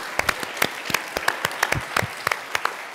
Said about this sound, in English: let's give them all one more round of applause and thank them all